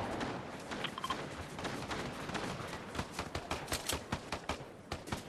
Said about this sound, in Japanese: 銃声。